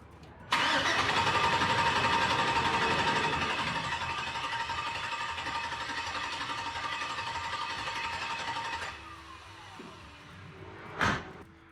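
A Chevy C10 truck engine converted from carburetor to fuel injection cranks steadily and loudly for several seconds without catching, then the starter stops, followed by a short clunk.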